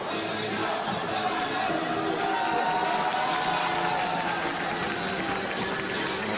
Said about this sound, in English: Plenty of Uzbek support in the crowd here.